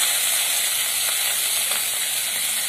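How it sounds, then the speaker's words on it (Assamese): Fish fries in a pan in a village kitchen in Assam, a steady, loud, close sizzle and hiss with no talking. "এতিয়া মাছখিনি ভাজি লৈছোঁ"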